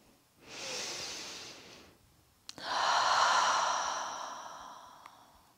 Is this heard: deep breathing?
yes